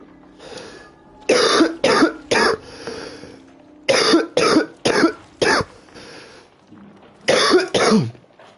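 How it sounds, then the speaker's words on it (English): A person coughing repeatedly and close to the microphone, in three tight clusters of two to four harsh bursts each, separated by quieter pauses. "And yet I'm still coughing"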